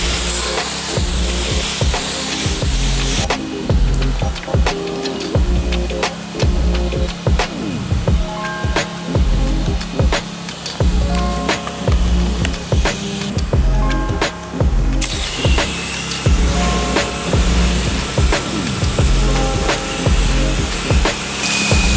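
A pressure washer with a white tip nozzle and dual lens sprays a stucco house wall in a loud, continuous hiss that rises and dips steadily as the jet sweeps across the surface.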